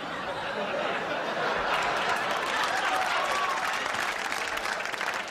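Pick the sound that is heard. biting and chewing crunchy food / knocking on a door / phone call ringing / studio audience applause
studio audience applause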